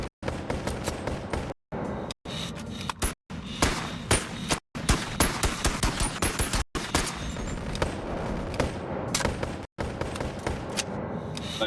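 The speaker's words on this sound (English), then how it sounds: "Let's try some shooting, shall we?" Rapid volleys of gunfire from the virtual reality shooter Boneworks, loud sharp cracks fired in quick bursts and broken by a few brief silent gaps.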